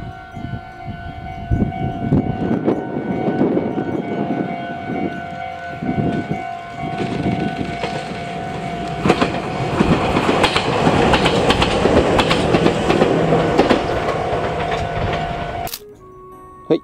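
Meitetsu 6000 series charter train in white-band heritage livery runs past at close range on the Nishio Line, a loud steady rumble with wheel clatter and a rising whine, ending abruptly.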